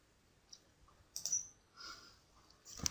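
Computer mouse clicks during SAP BW software work: a few faint, separate clicks spread over a few seconds in a quiet room, with a brief soft rustle and no speech.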